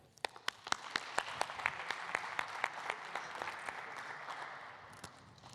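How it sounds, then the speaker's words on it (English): An audience at a Malaysian business development talk applauds a speaker, starting with a few sharp, distinct claps that quickly swell into a full, even round of clapping before easing slightly at the end. "a very warm round of applause for Jasmine"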